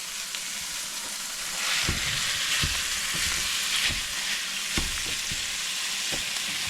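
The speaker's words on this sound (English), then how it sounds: "Okay, we'll let that fry up." Ground beef, with salt, pepper and translucent onions, fries in a pan with a steady loud sizzle, with recurring soft clicks and scrapes of stirring.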